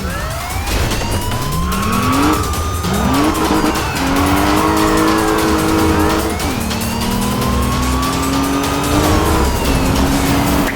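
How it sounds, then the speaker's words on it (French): Cars race at high speed in the Need for Speed Rivals video game during a police pursuit, with loud engines, repeated rising revs and tire squeals, and a police siren woven through, without voices. "Je poursuis plusieurs voitures lancées à grande vitesse sur Sportson Trail"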